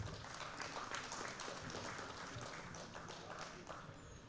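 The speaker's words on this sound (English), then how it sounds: "Requesting everybody to please give a huge round of applause" An audience gives a round of applause for a speaker at a foundation event, dense clapping that stays even and fairly distant, with a faint background murmur.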